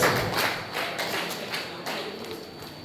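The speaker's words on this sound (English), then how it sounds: "give a big round of applause." A small group applauds at a computer lab donation event, the clapping modest and somewhat muffled, fairly steady for a few seconds with no talking.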